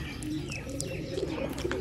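A caught pigeon coos in a low, rolling murmur, with faint chirps from other birds around it, steady and fairly close throughout.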